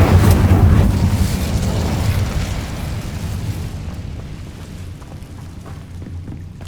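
An Incendio fire spell cast in Hogwarts Legacy, a loud booming whoosh of flame bursting at once, then a rumbling roar that slowly dies away.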